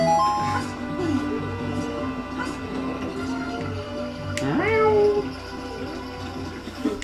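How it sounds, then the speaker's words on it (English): A cat meows several times, including one rising, drawn-out meow, while people talk over a steady background hum. "your cat is so adorable"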